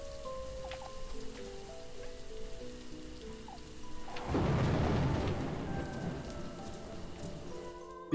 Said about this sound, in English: I have to get out of this thunderstorm.